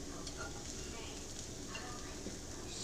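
Eggs sizzle steadily in a hot pan while being stirred, a quiet, continuous crackling hiss with small scraping bursts throughout.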